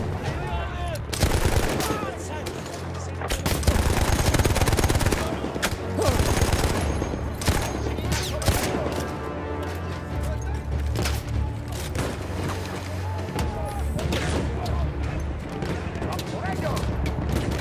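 Video game combat with sustained bursts of gunfire and rapid automatic shots, loud and dense, with booming impacts layered over continuous background action and some speech mixed in.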